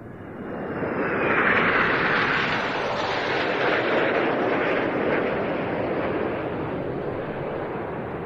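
Jet formation of military aircraft at the RIAT airshow roaring past, a broad loud rush that swells early and holds steady as the formation passes.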